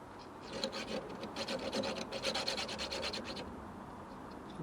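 Tie rod end threads being filed and cleaned, a quiet rapid rhythmic rasping of back-and-forth strokes that builds in the middle and then eases off, close up with no talk.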